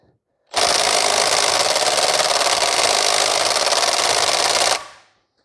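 A Milwaukee M12 right angle impact ratchet (2564-20) hammers on a socket in one loud, continuous burst of rapid buzzing impacts lasting about four seconds, starting and stopping abruptly.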